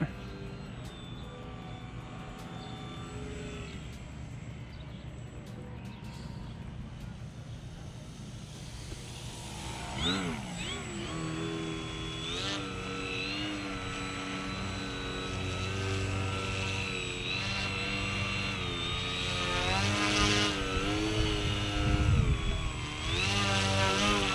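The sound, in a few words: foam Edge 540 RC plane motor while hovering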